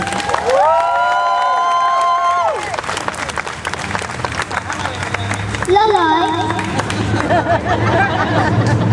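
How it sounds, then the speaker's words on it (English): A crowd at an RSPCA protest applauds and cheers, steady clapping and babble running throughout, with loud tonal sounds like whistles or horns rising over the noise at moments. "I think we should all give Mark a great round of applause."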